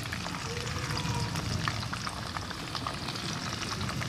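Hot oil fries and sputters in a pan while kudampuli pickle is made, giving a steady close crackling hiss with small popping bursts throughout, fairly quiet and with no one talking.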